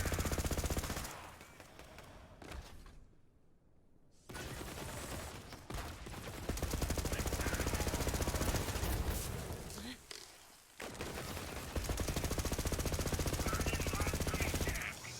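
The Magnificent legendary pistol fires rapidly in the shooter game Borderlands 3, loud sustained bursts of gunfire with brief pauses, plus dense in-game combat noise.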